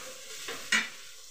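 Oil heating in a pan for cabbage kofta gravy gives a faint steady sizzle, broken by two short stirring scrapes, the second louder, with no voices.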